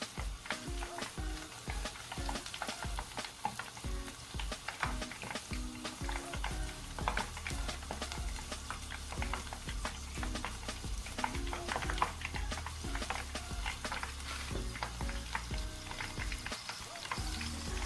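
Battered shrimp tempura deep frying in hot oil, a steady, dense crackle and bubbling sizzle that runs unbroken throughout, close by with no voices.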